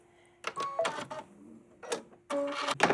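Sewing machine back stitching a jeans hem, two short close bursts of rapid mechanical stitching separated by a pause, with a faint steady motor hum underneath.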